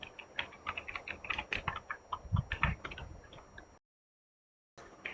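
Quick, light clicks of a computer keyboard as a command is typed into a terminal, close and fairly soft, in an irregular run that stops abruptly and picks up again briefly at the end.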